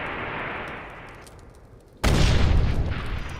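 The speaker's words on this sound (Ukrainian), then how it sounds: "А уже така вибухає." A rocket explodes in the People Playground video game with a sudden loud, close boom that cuts in after fading noise and rumbles on to the end.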